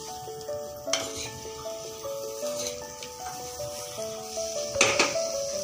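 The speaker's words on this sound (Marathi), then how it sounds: "त्याच्यामध्ये थोडीशी कोथिंबीर, याला हलवून घेऊया" Stuffed bitter gourd masala with fresh coriander stirred in a cooking pan, giving a soft sizzle and occasional louder scrapes over a faint steady background tone.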